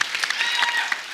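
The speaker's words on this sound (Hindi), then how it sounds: "जोरदार ताली" Studio audience applause at The Kapil Sharma Show, a Hindi comedy talk show: a steady, close wash of many hands clapping with no talk over it.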